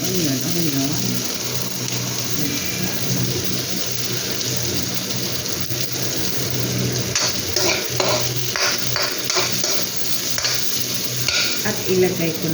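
Onion frying in a pan, a loud close sizzle with scraping and stirring strokes that grow busier and more rhythmic toward the end, a voice briefly heard under it.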